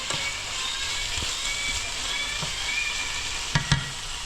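Food sizzles steadily in a very hot pan during a budget home cook-up, a constant crackling hiss with a couple of sharper pops near the end, close and alone without talk.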